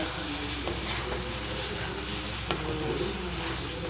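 Pasta sizzles in a hot pan while being stirred during home lunch-box cooking, with a steady soft frying hiss and several sharp scraping stirs of the spoon against the pan.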